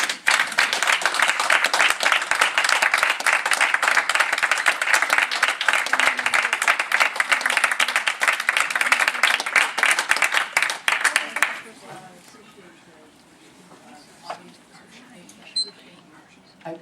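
Dense, loud applause from an audience at a public education meeting, lasting about eleven seconds before cutting off abruptly into quiet room noise with a few faint sounds.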